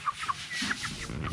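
A chick cleaning itself on a farm gives faint, high peeping chirps in short scattered notes against quiet outdoor background noise.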